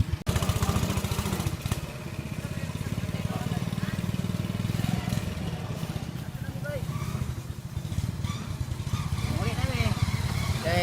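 A motorcycle engine drones steadily throughout, loud and close, with voices talking faintly over the rumble.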